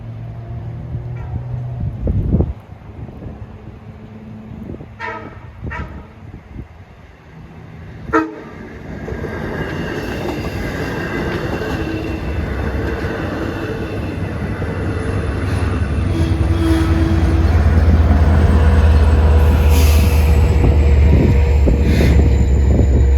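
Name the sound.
train horn sounding on the Montauk Branch line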